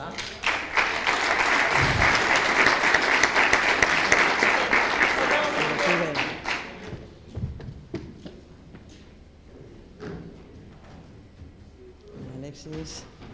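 A campus event audience gives dense, lively applause for a prize winner, sustained for about six seconds before tapering into scattered claps and background murmur, with voices talking afterward.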